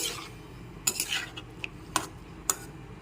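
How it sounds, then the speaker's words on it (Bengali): A spoon scrapes and taps against a pan as raw mango chutney is stirred with added water, giving a few distinct metallic clicks and scrapes over a low, quiet background, close up and without speech. "এক মিনিট একটু নেড়ে চেড়ে নিচ্ছি"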